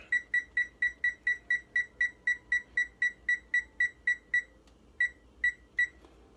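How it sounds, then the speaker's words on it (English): Kitchen oven timer beeping in a fast regular series of loud, bright electronic tones, about twenty in a row, then a short pause and a few more beeps, with no talking. "I want to turn the oven on to timer"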